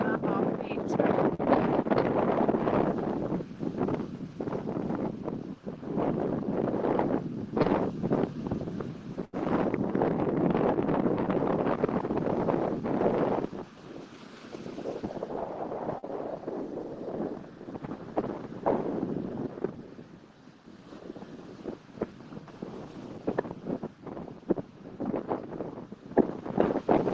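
Strong wind blowing outdoors, buffeting the microphone with a loud, continuous roar that surges and eases in gusts across the whole stretch, dropping briefly quieter midway before picking up again.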